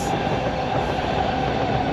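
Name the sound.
metro train approaching and slowing at station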